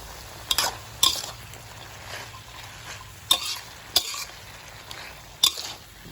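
A long bean stir-fry being tossed in a pan, with repeated sharp scrapes and clanks of a utensil against metal over a steady background sizzle, close and with no voices.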